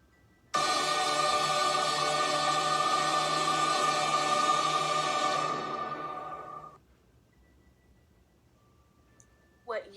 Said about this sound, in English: What you just heard was a choir singing in harmony.